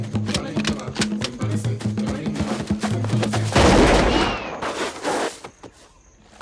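Rapid gunfire in a Sherlock Holmes radio drama set at Victoria Falls, a dense volley of sharp repeated shots followed by a louder burst, then fading out, with shouting voices mixed in.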